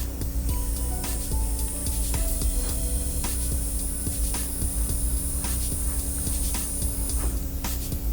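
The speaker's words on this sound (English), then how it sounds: "When I'm spraying, I'm at 3 to 4 inches." A Dinair airbrush sprays makeup onto a face in short, close hissing bursts, with a thin high airflow tone sustained over most of the stretch.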